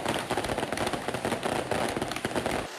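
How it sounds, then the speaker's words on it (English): The Fire Lion fireworks show at a Taiwanese temple festival, where a papier-mâché lion is burned, gives off a dense, loud, rapid crackle of firecracker bursts, like a steady rattling barrage that barely pauses. "the Fire Lion fireworks show"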